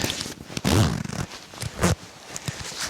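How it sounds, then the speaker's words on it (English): A Fjallraven Greenland down liner jacket zipper rasps in a couple of quick bursts with small rustles between, close by. "zipper's real smooth"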